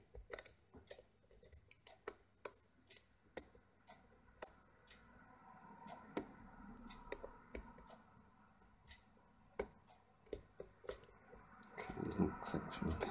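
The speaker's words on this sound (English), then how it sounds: "clicks from pin 1 there" A lock pick works the pins of a 6-pin Euro security pin lock, giving sharp, sparse metallic clicks at irregular intervals against a quiet background, heard close up.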